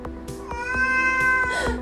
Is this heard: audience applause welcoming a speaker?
no